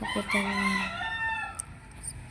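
A rooster crows close by, one loud, drawn-out harmonic call, with a few spoken words briefly around it.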